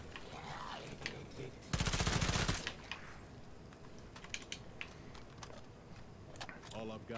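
State of Decay 2 gameplay with a quick burst of rapid gunfire lasting under a second, set among steady keyboard and mouse clicking and a person talking quietly.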